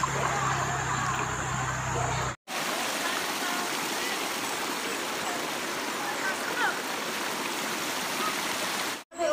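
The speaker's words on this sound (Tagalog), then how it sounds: "Ito po ay yung magkasangang ilog." Steady rushing water of a forked river where two streams meet, one fed from a spring, a broad continuous flow heard close, with a brief cut in the middle and no talk.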